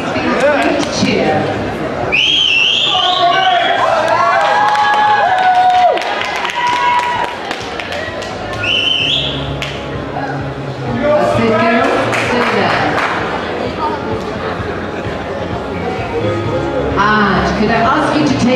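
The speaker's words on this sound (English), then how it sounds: "Audience, please feel free to cheer." An audience cheers, claps and whistles at a UKBFF bikini bodybuilding competition in Leamington Spa, with bursts of whoops and shrill whistles over steady crowd chatter and applause, swelling and fading in waves.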